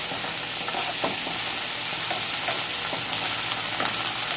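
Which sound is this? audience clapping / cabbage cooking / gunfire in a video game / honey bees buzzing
cabbage cooking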